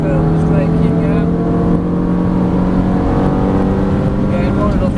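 Ferrari engine pulling hard on a race track, a loud continuous roar with steady rising harmonics as the throttle stays open, a voice talking over it throughout.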